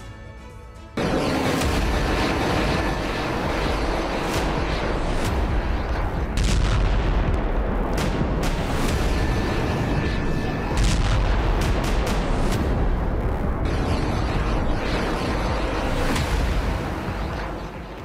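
Rocket barrage fired by Hamas into southern Israel during the Israel-Palestine conflict: a dense, loud, continuous roar of booms and cracking blasts runs almost the whole length without a break, with no talk over it.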